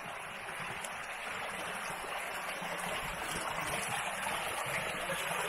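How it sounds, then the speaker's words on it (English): Fast-moving brook water rushes steadily over rocks in a mossy canyon in the Wuyi rock tea area, a dense, constant broadband roar close by with no pauses and no voices. "the fast moving water here"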